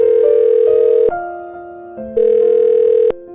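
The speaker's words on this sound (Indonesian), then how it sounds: "saya telepon dokter Kenzo dulu." Telephone call tones from phoning a doctor in Sakura School Simulator: loud, steady electronic beeps that shift pitch across several segments, each a sustained tone with no talking over it.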